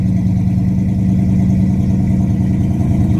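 A 1972 Oldsmobile Cutlass engine idling through dual exhaust, a loud, steady low rumble with an even pulsing beat throughout.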